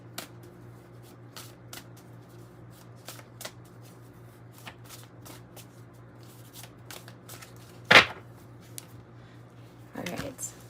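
Tarot cards shuffled in a brief riffle, a sharp burst of flicking near the middle and another at the end, over a quiet steady background hum with faint ticks.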